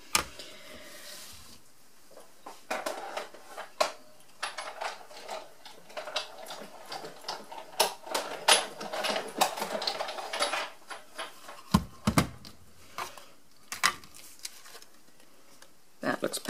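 A die-cutting machine feeds card through with busy mechanical clicking and ticking, a steady rattling run that carries on for most of the stretch.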